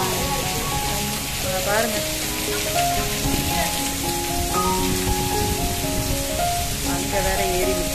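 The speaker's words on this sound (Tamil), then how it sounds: "20 நிமிஷமா இடி வேற இடிக்குது பாரு, பயங்கரமா இடி இடிக்குதுங்க" Heavy rain pours down steadily at Thanjavur temple in a close, dense hiss, with faint rumbles of thunder underneath and a person speaking briefly over the downpour.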